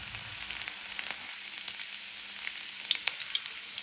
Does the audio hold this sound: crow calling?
no